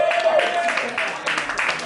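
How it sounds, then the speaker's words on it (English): A small club audience at a live music session applauds the performers, steady close clapping with a few voices and whistles over it. "Give a big round of applause."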